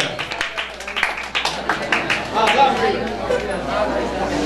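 Brief scattered applause from an audience at a talk on free software, quickly mixing into loud chatter and crowd murmur as people start talking.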